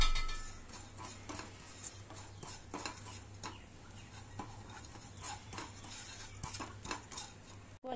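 Bread halwa roasting in a pan, with repeated soft scraping and tapping of a spoon against the metal over a quiet background sizzle, in an irregular stirring rhythm.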